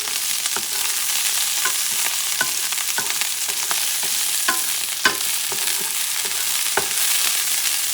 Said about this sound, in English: Add your green onions. Saute for a few seconds.